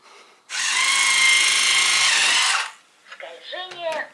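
A programmable interactive toy robot, the Blue Well ZG R8008, whirs loudly with a high motor buzz for about two seconds as it slides forward, followed by a short synthetic voice announcement from the toy.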